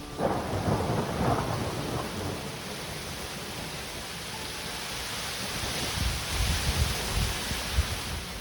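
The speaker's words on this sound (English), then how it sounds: "now we've got a thunderstorm" A thunderstorm with steady heavy rain and hail on a roof and rolling rumbles of thunder, the downpour hissing continuously and loudly throughout.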